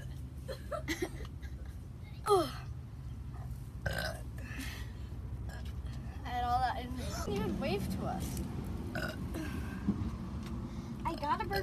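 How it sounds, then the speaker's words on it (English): A young girl lets out several burps, one sharp and loud among softer ones, interspersed with her chatter and a little giggling. "Why do I burp like that?"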